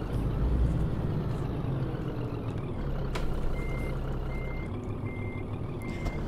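A Scania truck in a driving simulator idles with a low engine rumble while parking. Partway through, evenly spaced reversing beeps start repeating at a steady rhythm.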